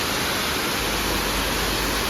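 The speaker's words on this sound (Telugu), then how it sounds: "చిన్న బుడ్డి వాటర్ ఫాల్ ఉంటుంది" A small waterfall roars in a steady, dense rush of falling water, close and constant with no break.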